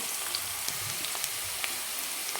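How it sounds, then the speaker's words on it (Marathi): Chopped onion softening in a pan for a methi egg rice dish gives a soft, steady sizzle and crackle, faint and continuous with small pops scattered through it, and no voices. "कांदा थोडासा एक दोन मिनिट परतून घेणार आहे"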